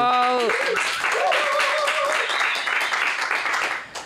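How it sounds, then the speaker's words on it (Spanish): Applause for a singer at an interview, clapping and cheering from a small crowd, with a voice shouting briefly at the start and lively chatter mixed in before it tapers off. "Un aplauso, por favor."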